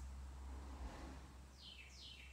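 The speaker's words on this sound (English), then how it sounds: "It's these little... these little adorable fat birds." Small plump birds chirp outdoors, two brief high chirps sounding late and fairly faint over a low steady background rumble.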